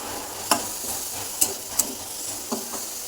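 Food frying in a pan, a quiet steady sizzle broken by a few sharp stirring clicks or scrapes of a utensil, close by with no talk.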